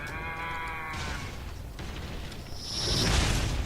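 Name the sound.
Metal Gear mooing in video game Metal Gear Rising: Revengeance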